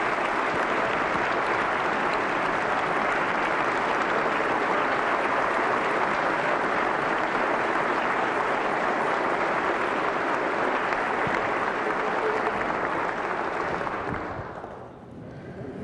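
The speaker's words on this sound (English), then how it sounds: "Please give them a big round of applause because they've worked really hard." Sustained, loud applause from a large audience at a governor's State of the State address, a dense continuous roar of clapping lasting about fourteen seconds before tapering off.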